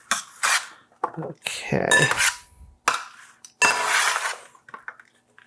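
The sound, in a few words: hot roasted green beans being moved from roasting pan into bowl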